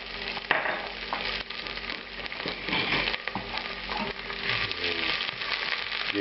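Onions, bay leaf and mustard seeds fry in hot oil in a pan, giving a steady, close sizzle with occasional crackles and stirring scrapes, with no talking.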